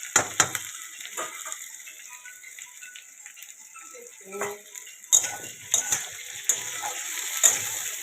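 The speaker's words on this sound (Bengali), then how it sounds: "আমি আলুটা ফ্রাই করছি।" Potato pieces fry in hot oil with a steady thin sizzle, broken by metal spoon scrapes and rattles against the pan nearby.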